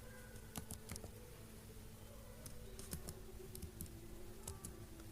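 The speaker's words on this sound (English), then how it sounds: "in the search bar type JDK download for Windows 11." Soft, quick keystrokes on a computer keyboard, a faint irregular patter of clicks in a quiet room, close by with a low steady hum underneath.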